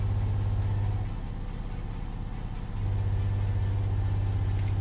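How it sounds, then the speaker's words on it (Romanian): Heavy truck engine in a driving game, revving hard as it climbs a hill in a convoy across Italy: a steady low drone that dips briefly and then swells back to full strength, close and loud. "Fiți atent numai cum o să facă camionul ăsta."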